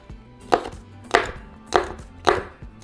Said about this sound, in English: I'm just going to chop them